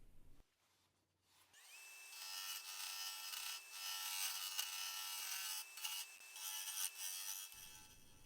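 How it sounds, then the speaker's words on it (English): A yew bowl turns on a wood lathe while hollowing tools cut into it. A steady motor hum comes in with continuous scraping and rasping, rising and falling slightly with the cuts, fairly close and uninterrupted. "So back and forth between the hollowing tool and the carbide cutter, and we just keep hollowing, hollowing, hollowing."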